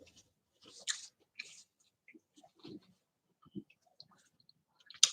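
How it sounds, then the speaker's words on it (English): Crunchy, crispy food chewed close to the mouth, with irregular bursts of crunching and soft mouth clicks separated by quiet pauses, and no talking. "I'm chewing on it."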